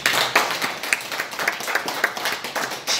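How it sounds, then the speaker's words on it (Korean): A congregation at a Daejonggyo religious service claps along in a loose, uneven rhythm, the individual hand claps bunching into soft bursts that lift and fade over a few seconds. "박수하세요."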